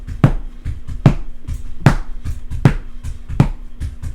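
A drummer's bass drum pedal beats a slow, even pulse of about five deep thuds, played in a casual style with light cymbal ticks between, close and alone without talk.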